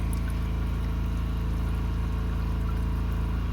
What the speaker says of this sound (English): between the pressure washer and this sound of the diesel draining